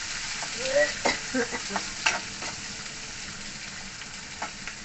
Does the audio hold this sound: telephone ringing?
no